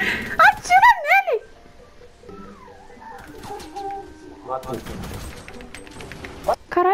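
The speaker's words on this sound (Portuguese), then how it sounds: "Ele tá atirando em mim, Giovanni!" Video game gunfire crackles in rapid bursts near the start and again later, with excited voices talking and shouting throughout.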